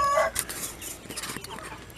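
Free-range chickens cluck near the coop on a farm, a few short clucks and soft calls over a faint outdoor background, with no talk.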